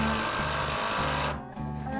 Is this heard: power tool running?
yes